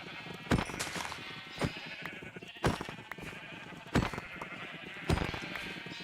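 Sheep bleat in the Minecraft video game, a run of distinct sharp bleats spaced about a second apart over a bed of steady background noise, with no talking.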